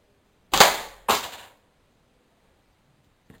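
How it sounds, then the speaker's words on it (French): A slingshot fires a steel ball, giving two sharp, close snaps in quick succession, each trailing off briefly, then near silence with a faint tick at the end. "je tire la bille en acier"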